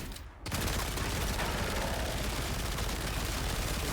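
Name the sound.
magazine-dumping gunfire from video game Warframe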